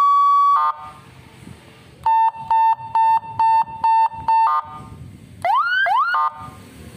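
A cheap seven-tone electronic car siren, wired straight to a car battery, blares loudly through a steady tone, a run of six rapid pulsed beeps, then rising wailing sweeps, with quieter gaps of background noise between.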